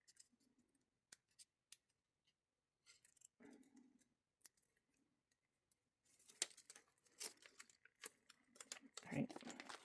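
Scissors snip through paper while building a horizontal Dutch door journal spread, a few quiet, sharp cuts scattered among soft handling rustles, with denser crinkling toward the end.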